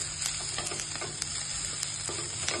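Chopped onion, cabbage and carrot stir-fry in a hot wok with a continuous loud sizzle and a few scraping stirs of the spatula, close by and with no talk over it.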